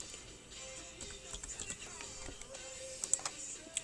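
A six-digit Avon product number is entered on a computer keyboard, producing soft, faint key clicks in an uneven run with a few sharper taps near the end, against a quiet room hum.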